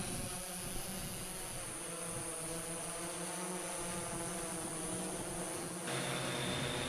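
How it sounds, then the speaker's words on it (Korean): A liquid hydrogen fuel-cell drone weighing 16 kg roars as it climbs into the sky, a steady buzzing whine of rotors with sharp high tones, loud and continuous without talk. "굉음을 울리며 상공으로 향하는 액화수소 드론"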